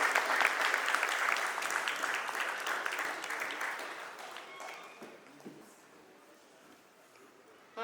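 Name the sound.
audience applause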